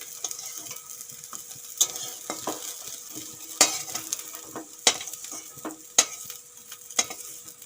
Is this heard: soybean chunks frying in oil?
yes